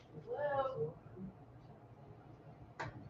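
A pet cat gives a drawn-out meow close by, followed by a brief second chirp-like call, with faint room noise between.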